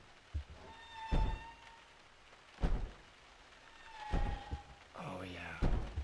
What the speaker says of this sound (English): Now there's banging on this door.